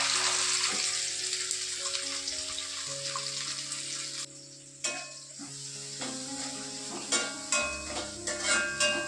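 Fish pieces are dropped into hot oil in a long-used clay pot, setting off sharp bursts of sizzling over a steady hum. The frying swells and crackles up close, with no speech.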